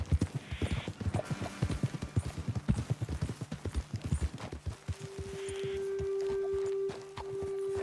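Horse hooves clip-clop at a walk in Red Dead Redemption 2, a close, steady rhythm that continues for the whole stretch, with a sustained tone rising under the hoofbeats toward the end.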